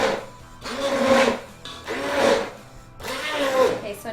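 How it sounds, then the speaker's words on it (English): An immersion blender purees cauliflower in a stainless steel pan in three rising-and-falling whirring bursts, with a grinding, scraping edge as the blade works down through the mixture. "one little key to using an immersion blender like this is you always want to be making a downward motion"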